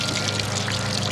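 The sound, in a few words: water dripping from clothes wrung out by hand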